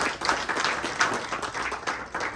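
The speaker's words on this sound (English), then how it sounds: "You all should give an applause to Lindsey again." Audience applause at a holiday investor networking event in Wilkes-Barre, a steady wash of many hands clapping throughout, moderately loud and continuous.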